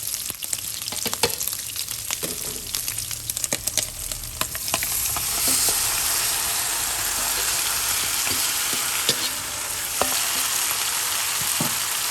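Mushrooms sizzle steadily as they fry with pork belly in a pot, cooking in the fat the pork has rendered without added oil. A close, continuous crackle runs throughout, broken by sharp pops and clicks and brief stirring noises.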